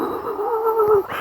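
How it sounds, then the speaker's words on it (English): Dogs at a distance give a sustained, wavering howl-like cry that rises and holds for about a second before breaking off, steady and moderately loud with no talking. "you can hear the dogs now viciously in the distance"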